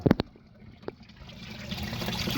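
Water draining from a garden fish pond, a soft steady trickle and splash that grows gradually louder and fuller, with a few sharp knocks near the start.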